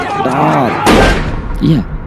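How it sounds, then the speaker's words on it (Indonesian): A single sharp gunshot-like bang in a crime drama film scene where a man is shot in the shoulder, a loud broadband burst over speech-like voices before and after it. "bahu George terkena tembakan"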